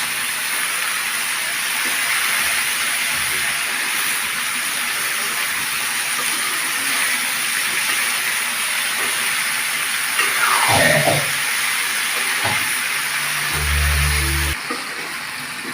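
Sliced bitter gourd (karela) with cumin and coriander powder frying in a pan, a steady close hiss of sizzling oil throughout, with occasional stirring scrapes and a low rumble near the end.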